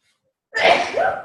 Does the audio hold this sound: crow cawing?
no